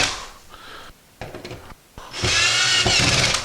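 A power drill drives screws into an Ikea Pax wardrobe panel in short whirring bursts, ending in one longer, louder run with a rattling grind as the screw seats, close and unaccompanied by talk.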